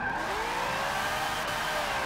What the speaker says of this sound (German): jetzt fahre ich die Kurve hier ein bisschen mal quer